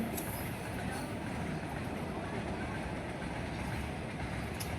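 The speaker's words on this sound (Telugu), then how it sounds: "ఆ మూడో గేటే ట్రైన్ వెళ్తుంది ప్రస్తుతానికి" A train, likely a goods train, rumbles past a level crossing steadily, a continuous low roar with rattling, heard from nearby, with no talking.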